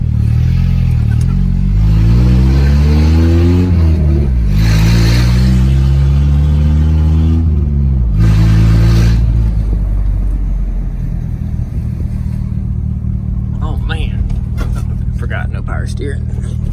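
A Mitsubishi Mighty Max pickup truck with no power steering drives around the block, its engine loud and close, revving up through gears with rising and falling pitch, then settling as a voice talks.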